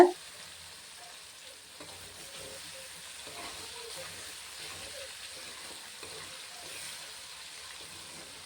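Eggplant pieces fry in oil for an eggplant chilli masala, giving a steady, soft sizzling hiss that runs evenly throughout at moderate, close volume.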